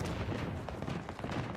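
Explosives detonating in Battlefield 2042, a short, loud, low rumbling boom with a rough crackling tail that fills the moment.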